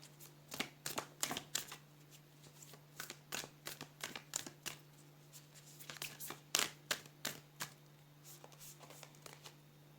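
Tarot advice cards being shuffled by hand: a steady run of crisp, close riffling bursts and soft slaps, repeating irregularly over a low constant hum with no talking.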